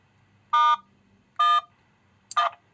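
Three separate dual-tone keypad beeps from a SIM800L GSM module phone line being dialed, each lasting about a quarter second with even pauses between them, clear and alone over a faint low hum.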